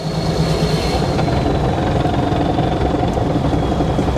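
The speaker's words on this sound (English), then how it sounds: "I'm getting a lot of gear noise out of the transmission." Steady drone from a truck with a Cummins diesel engine swap and a noisy transmission, a continuous gear whine over rumbling engine and road noise, loud and unbroken throughout, with no talk.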